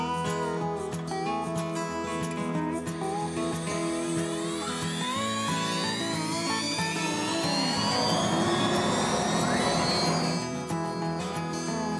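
Wood router with a 1/4-inch bit making a finishing cut on an axe handle, a loud continuous high whine that shifts pitch as the bit bites in, peaks near the end, then eases off.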